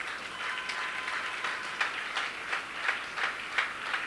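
A church congregation applauds together in praise, a steady crowd of clapping at a moderate distance with rhythmic surges and no one speaking over it.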